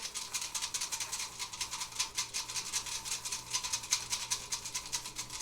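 Soft, rapid rattling and rustling of folded paper entries tossed around inside a flower pot, shaken steadily in a quick rhythm at low volume.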